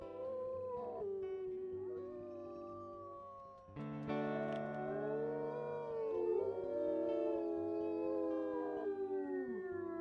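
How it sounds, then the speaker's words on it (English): Wolves howling in the video game WolfQuest, several long, overlapping, gliding howls of different pitches joining into a loud layered chorus after a quieter opening howl, with no voices over them. "Let's go ahead and let's do some howling here."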